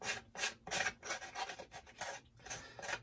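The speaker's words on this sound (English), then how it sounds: "when you don't want to cut just a fraction off, there's nothing wrong with just sanding" Rhythmic raspy strokes of an emery board sanding paper back and forth, about eight short scratchy passes close up, with no voices.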